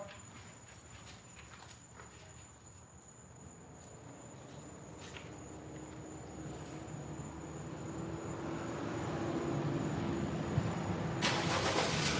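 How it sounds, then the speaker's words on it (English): A car engine cranks and catches, its rumble building gradually and settling into a steady idle, with faint insect chirps in the background. "turn on the car"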